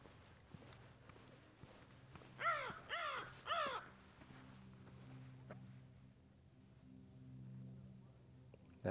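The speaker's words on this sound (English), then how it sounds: "That's definitely a crow." A crow caws three times in quick succession, loud and fairly near, in Shark Valley in Florida's Everglades National Park, followed by quieter ambient outdoor sound.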